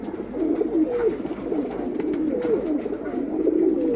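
A silver racing pigeon from a tournament line coos in repeated rolling, throaty phrases, close and clear, with no talk over it.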